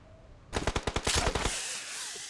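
One loud burst of automatic gunfire in a shooter video game, fired at a bot. About a dozen sharp, evenly spaced shots crack close by, then a faint tail follows.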